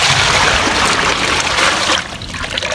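Water is poured over a golden retriever during a bath, a close, steady splashing trickle that thins out and softens toward the end.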